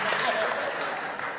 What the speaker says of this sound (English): Don't clap at my problems,